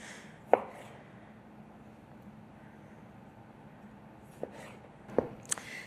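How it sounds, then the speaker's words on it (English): Knife chopping through tomatoes on a cutting board, a few sharp isolated knocks: one near the start, then a quick cluster of three or four toward the end, over quiet room background. "I like to cut them on an angle"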